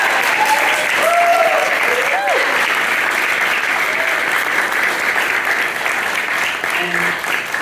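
A crowd at an innovation prize ceremony in New York applauds the finalists, loud and steady clapping for several seconds with brief whoops and cheers rising above it.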